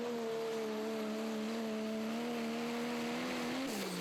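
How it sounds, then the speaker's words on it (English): A Ford pro stock diesel pulling truck at a pulling event holds a loud, steady high-revving engine drone that rises slightly, then drops in pitch near the end. "Another Ford here. Really working that throttle early."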